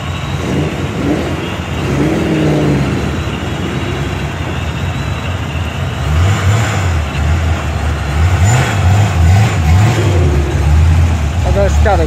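A modern muscle car engine snarls and revs nearby at a Saturday night classic car cruise in Pottstown, loud throaty bursts rising over a steady idle and crowd noise, with people talking throughout.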